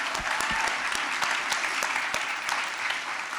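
A debate audience for an Oklahoma state senate race claps steadily, a fairly close, even patter of hands with a few sharper individual claps standing out, lasting a few seconds.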